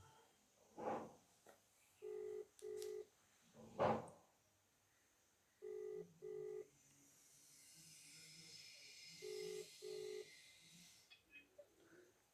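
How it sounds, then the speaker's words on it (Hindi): Phone keypad tones beep in paired bursts as a live call is dialed, interrupted by a couple of sharp breathy noises, fairly quiet with a faint hiss in the background. "अब हम इसको लाइव फ़ोन पे लेते हैं"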